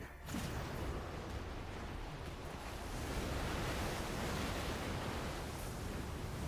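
Steady rushing water roars in Genshin Impact, a broad, even wash of surf-like noise that holds loud and unbroken throughout, with no talk over it.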